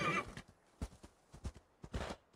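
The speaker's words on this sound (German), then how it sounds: "wo kommt das Pferd denn her?" A horse's hooves clop in a few scattered steps with a short whinny at the start in the video game Assassin's Creed Valhalla, fairly quiet and without talk.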